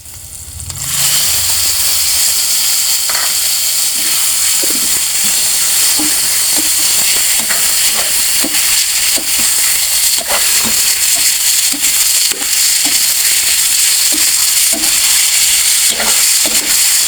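Chicken liver frying in a pan for adobo, a loud steady sizzle with scattered pops and crackles and a brief stir at the start, with no talk.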